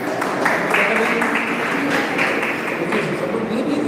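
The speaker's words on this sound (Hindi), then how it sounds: "एक बार जोरदार तालियां।" Audience at a merit award ceremony claps for a student, a sustained, fairly loud wash of applause with a steady hum running beneath it.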